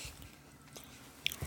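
A person chewing food near a microphone, soft moist mouth sounds with a couple of sharper crunchy bites near the end, faint and close over a quiet room background.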